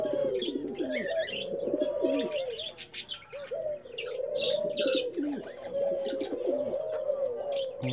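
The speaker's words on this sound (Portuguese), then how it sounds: "mostrando aqui para vocês alguns pombos." Fantail, homing and common pigeons coo together at close range, with soft repeated rolling coos overlapping throughout, broken by small chirps and a brief quieter lull near the middle.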